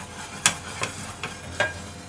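Olive oil heating in a small frying pan, giving faint low sizzling with a few sharp clicks or taps from utensils on the pan, no talking.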